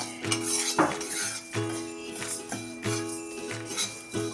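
Coriander seeds and tamarind dry-roasted in a kadhai with no oil, with a spatula repeatedly clinking and scraping against the pan in uneven bursts, close and moderately loud.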